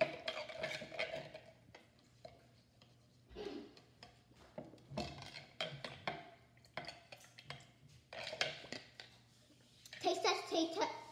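Spoon scraping and clinking in a container while sugar is stirred into homemade lemonade, intermittent rubbing strokes mixed with children's chatter throughout.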